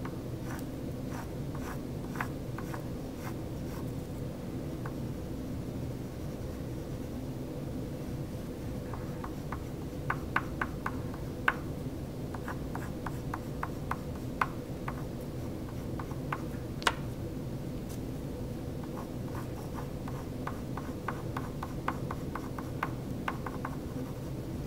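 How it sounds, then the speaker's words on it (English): Oil pastel strokes scratch across paper while drawing a braid, soft repeated scraping ticks in irregular bursts over a steady low room hum, close and quiet. "You want to do most of your drawing with the oil pastel"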